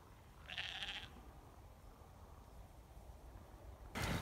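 Sheep on a Pembrokeshire farm bleat, one clear close call followed by quieter outdoor background and a burst of wind or handling noise at the end.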